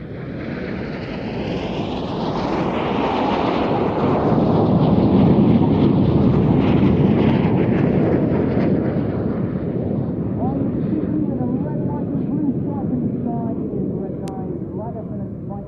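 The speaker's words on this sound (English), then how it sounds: "coming down the runway is a low jet, that is Red 9" A Red Arrows jet from the Royal Air Force display team making a low pass down the runway at Farnborough Airshow, a roaring rumble that swells to a loud peak midway then slowly fades, with a commentator talking over it.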